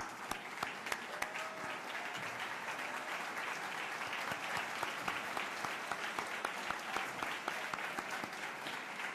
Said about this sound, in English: Another round of applause for Janette